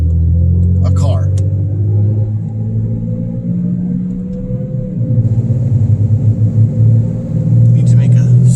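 A car cruising on the road, heard from inside the cabin: a steady low engine and road rumble that swells slightly as it speeds up, with a voice talking over it.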